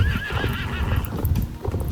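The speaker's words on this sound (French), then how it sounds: "Parce que ton poney, il est trop beau." Pony hooves clip-clopping in a horse-riding video game, a loud steady rhythm of hoofbeats with a high whinny rising over them at the start.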